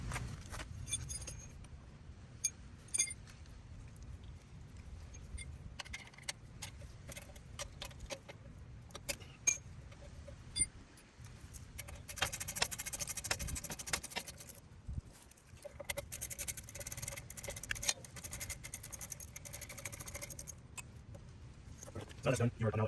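Metal parts clink and rattle in scattered, close taps and jangles while the rear brake caliper and pads come off a 10th-generation Honda Accord, with stretches of rustling and handling in between.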